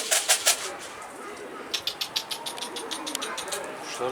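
A pigeon flaps its wings in rapid bursts at the start and again in a quick rhythmic series later, close by, with soft cooing and faint background noise between.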